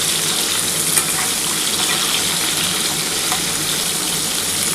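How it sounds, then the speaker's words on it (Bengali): Carrot and raw green banana pieces frying in a pan for Bengali shukto, a continuous dense hiss of sizzling oil with a faint watery quality, steady and close with no talking. "গাজর আর কাঁচকলাটা একটু ভাজা ভাজা হলে"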